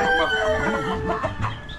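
A rooster crows loudly and close by, its drawn-out call rising and falling, followed by a few clucks from farm fowl.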